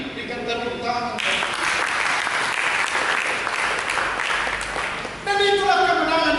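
A church congregation applauds during a Sunday sermon, a dense, steady wash of clapping that fills the space for several seconds before the preacher's voice returns.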